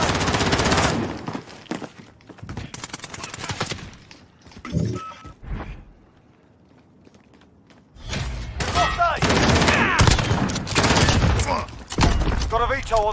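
Dragon's Breath shotgun shells fired in Call of Duty Modern Warfare: loud, close blasts in rapid bursts with crackling, booming impacts, then a quieter lull before another dense barrage of gunfire.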